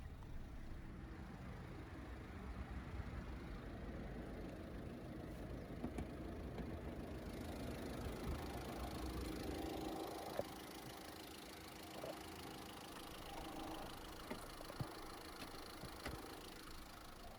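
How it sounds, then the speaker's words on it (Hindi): A Tata Safari's 2.0-litre inline four-cylinder BS6 turbocharged Kryotec Multijet diesel idles with the bonnet open, a steady low rumble holding close and even throughout, with no talk over it. "तो ये है 2000 CC inline 4 cylinder BS6 turbocharged Kryotec fiat Multijet diesel engine"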